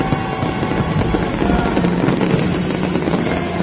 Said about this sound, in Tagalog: Wow, grabe yung fireworks, grabe.